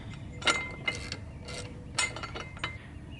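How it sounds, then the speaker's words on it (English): Bolts on a Harley 883 front fender lip are tightened with quiet, close ratcheting clicks that come in several short bursts. "going to tighten them down."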